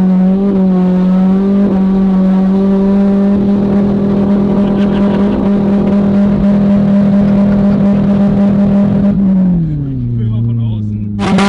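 An automatic car running on brake fluid in place of engine oil hums and drones loudly at steady revs, then pitch drops as it slows near the end, with people talking over it.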